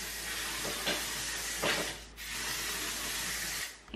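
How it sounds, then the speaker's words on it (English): A can of Heritage flexible-hold medium hairspray releases a steady, close hiss that runs almost the whole time, broken by a brief pause and ending abruptly. "All right, I'm gonna do a quick hairspray."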